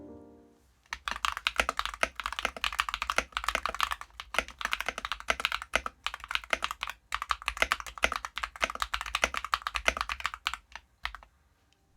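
Steady, fast typing on a modded budget mechanical keyboard, deep and thocky keystrokes clattering continuously for several seconds, close and clear with no talking.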